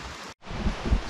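Rain falls during a portage on a solo fly-fishing camping trip in Algonquin, a close, rough wash of drops and wind on the microphone, with a brief dropout and a few low thumps.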